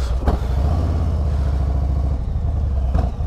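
A Harley-Davidson Low Rider ST motorcycle engine runs in a deep, steady, throbbing rumble close to the microphone, with a couple of brief clattering blips.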